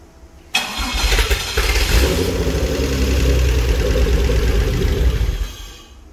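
A racing car's Mugen engine cranks and catches, then runs at a steady, loud rumble for several seconds before cutting back at the end.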